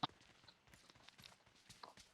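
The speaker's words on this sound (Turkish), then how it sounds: "Beyler buralarda var. Ayak sesleri geldi." Soft, faint footsteps from the mobile battle royale game PUBG Mobile patter at a quick irregular pace in the background, with a sharper knock at the start.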